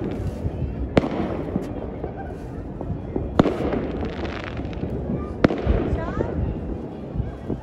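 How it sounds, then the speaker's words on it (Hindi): Fireworks at a Makar Sankranti celebration in Jaipur burst with several sharp cracks over a continuous crackling rumble; loud and fairly close, no talking. "आतिशबाजी,"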